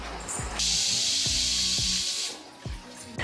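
Pressure cooker on an induction stove releasing steam in a loud continuous hissing whistle that runs for about two seconds, with soft rhythmic thumps from the cooker underneath.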